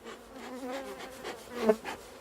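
Honeybees buzz steadily around open beehives while the frames are being adjusted, a close, continuous insect drone that swells and fades as bees fly near.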